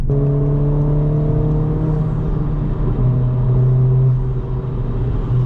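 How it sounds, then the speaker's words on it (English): A modded 2022 Honda Civic Si with a downpipe exhaust drives along, its engine holding a steady loud drone with a low rumble and harmonic whine that shifts pitch slightly partway through. "As you can hear, the car does sound good."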